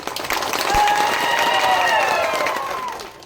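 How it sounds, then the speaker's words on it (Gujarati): Audience clapping at a village festival honouring the goddess Jatar Mata, a crowd applauding steadily and swelling before fading, fairly close, with a few voices and faint shouts mixed in. "પહેલા સર્વેને બધાને તાળીને ગડગડાટથી વધાવો"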